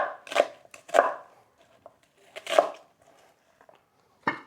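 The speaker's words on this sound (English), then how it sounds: "Let's start off by, chopping up the onion. Give it some rough chops." A knife roughly chops an onion on a board for a Jamaican chicken back dish, with a few loud, separate strikes spaced out irregularly and quiet gaps between them.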